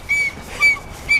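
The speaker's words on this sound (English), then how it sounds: "My Irish whistle." An Irish tin whistle sounds three short bright notes, each one held briefly with small gaps between, close and fairly loud against a quiet background.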